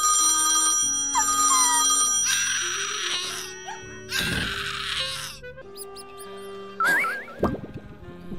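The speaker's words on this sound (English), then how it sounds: "Oh, phone calls." A telephone rings in the game Haunt the House over layered spooky music, its repeated ring bursts standing out loudly among wavering tones.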